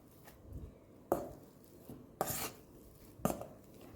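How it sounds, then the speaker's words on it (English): Soft squashing and thumping of a masher working cooked kongeo (sweet potato-like tubers) for a gluten-free, sugar-free brownie batter, with three sharp knocks against the bowl among quieter mashing, close and fairly loud, no talk. "So now we'll mash this"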